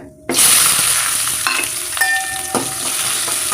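Loud sizzling erupts as onions and green chillies hit hot oil, then keep frying steadily with scraping stirs and occasional clinks of a utensil on the pan.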